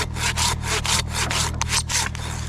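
A handsaw cutting dead white oak close by in quick, regular back-and-forth strokes, about eight rasping pulls in a steady rhythm.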